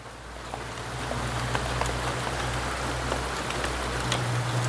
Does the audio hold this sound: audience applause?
no